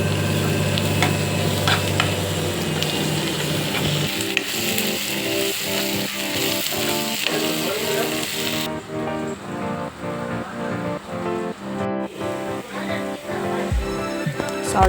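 A spoonful of ginger garlic paste frying in hot oil while an egg curry is cooked, a constant close crackling sizzle that runs on steadily with a low hum underneath.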